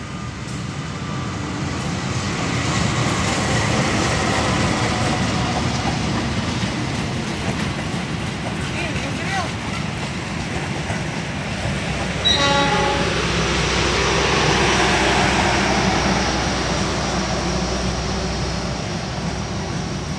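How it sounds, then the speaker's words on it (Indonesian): The Cikurai passenger train rolls into Cicalengka station with a loud, continuous rumble and wheel noise, a brief horn toot near the middle, and the steady roar of the passing cars close by. "Kereta api Cikurai persiapan berhenti stasiun Cicalengka ya, berhenti normal di Cicalengka."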